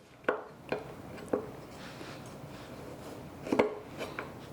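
A knife slices the brown peel off fresh ginger on a board, giving a few sharp, separate cutting taps with pauses between them against a quiet kitchen background.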